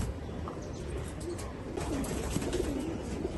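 Pigeons coo softly in a loft of fancy breed birds, low murmuring calls repeating over a steady faint background hum, with no talking.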